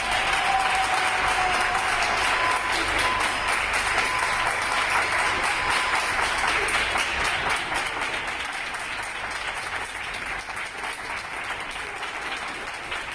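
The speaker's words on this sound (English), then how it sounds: "cleaning staff at a hospital were thanked with a warm round of applause for their tireless work from medical staff and colleagues" Medical staff and colleagues give hospital cleaning staff in Barcelona a warm round of applause: dense, loud, sustained clapping that continues steadily throughout and eases slightly toward the end.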